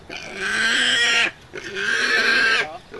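A pig squeals and grunts loudly in two long, strained bursts separated by a short pause, close to the listener, with no talk.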